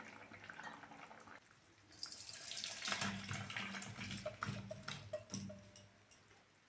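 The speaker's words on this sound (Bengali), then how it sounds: "আলু ঝিঙে সিদ্ধ হয়ে গেছে, ঢেলে নেব" Boiled potatoes and ridge gourd are drained: a quiet trickle swells into a steady splashing pour of water, with a few clinks and knocks as the vessel tips and empties.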